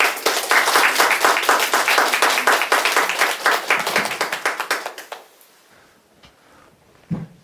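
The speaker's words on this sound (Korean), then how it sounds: "박수로서 환영하도록 하죠" At a Korean special lecture on the history of metal movable type, the audience claps to welcome the lecturer with brisk, close, rhythmic clapping that thins out and stops after about five seconds, leaving a quiet room with a faint knock.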